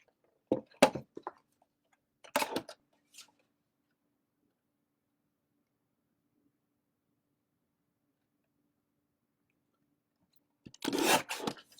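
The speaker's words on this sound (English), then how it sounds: "Sorry for the noise of the trimmer." Paper trimmer slicing rubber stamp material: a few sharp, close crunching cuts in quick bursts, then a long quiet pause before a final louder, rasping cut.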